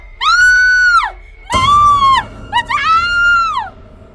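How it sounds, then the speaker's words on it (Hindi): A woman screams three times in long, high, wavering shrieks, loud and close, with brief gaps between them. "मैं कुछ भी समझ पाता उससे पहले ही नैना की चीख सुनाई थी"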